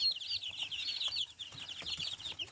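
A few young chickens, about twelve days old, cluck and peep softly in quick, uneven bursts, faint and close by, with light rustling underneath.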